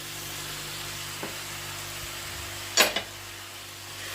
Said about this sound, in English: Now I'm gonna add the peppers